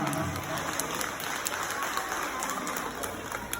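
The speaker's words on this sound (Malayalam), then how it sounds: "അദ്ദേഹത്തിന്റെ പ്രസംഗത്തിന് ശേഷം വളരെ നല്ലൊരു കയ്യടി നിങ്ങൾ കൊടുക്കേണ്ടതായിരുന്നു" A crowd at an inauguration claps after a speech, giving a dense, continuous patter of many hands that stays fairly even and somewhat distant throughout.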